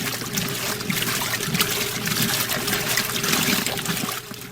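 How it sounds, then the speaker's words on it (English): A wringer washing machine agitates its tub of water, giving a continuous sloshing, churning wash of sound under a steady low motor hum, easing slightly at the very end. "we're going to pull that out and then it's going to start agitating."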